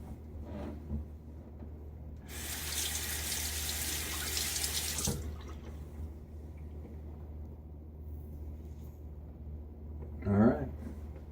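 Tap water runs from a faucet into a sink for about three seconds to rinse shaving lather, a loud close hiss over a low room hum, followed by quieter handling sounds and a brief voice near the end.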